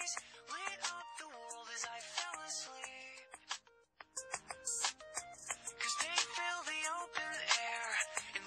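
A mobile phone ringtone plays a looping melodic tune while a call is being placed, faint and continuous, with a brief gap midway.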